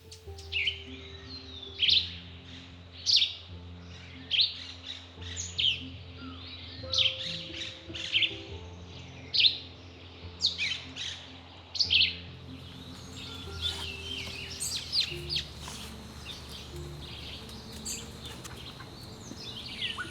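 Songbirds including warblers and vireos call in a jungle, with bright, repeated chirps coming every second or so over a low steady background hum. The chirps are fairly close and clear at first, then thin out toward the end.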